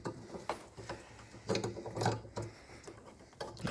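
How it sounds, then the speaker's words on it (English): Kia Rio parking light bulb being turned into its socket, giving a few small sharp mechanical clicks and ratchet-like snaps spread across a few seconds, close and fairly quiet. "And a small click noise, then it's complete."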